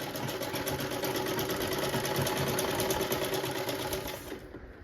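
A sewing machine stitches lace onto a chunni in a fast, even mechanical whir of needle strokes, loud and close, running steadily before stopping just at the end.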